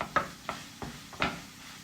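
Beef pieces are stirred in a hot pan with fried spices, four separate scraping strokes over a faint background sizzle, quiet and close with no talking.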